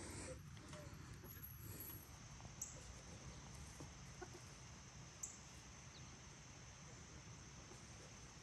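Backyard chickens cluck and murmur steadily close by while pecking at a snack, a continuous low fowl chatter with a couple of brief sharper calls over the flock noise.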